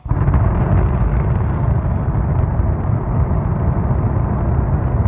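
The Space Launch System solid rocket booster roars in a static test firing, a loud, continuous, deep rumbling blast that begins suddenly and stays steady and powerful throughout, with no voices over it.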